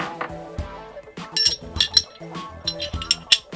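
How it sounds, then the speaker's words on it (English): Small metal parts of a Glock 43 pistol clink and clatter up close as the barrel drops into place, a quick irregular run of sharp metallic taps and rattles. "Drop the barrel in place"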